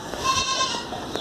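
A breeder buck goat at a livestock market gives a short nasal bleat, close and fairly loud, with faint background voices and market noise around it.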